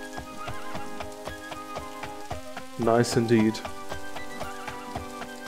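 Rain falls in the video game Daggerfall Unity as a soft, even patter beneath a sustained musical drone, while someone talks briefly over it.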